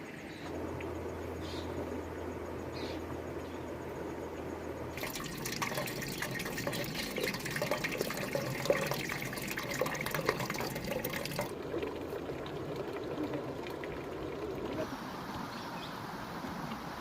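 Water scooped and collected from a river along the Narmada: continuous splashing and pouring rush, loud and near, swelling in the middle and easing toward the end, with someone talking at times over it.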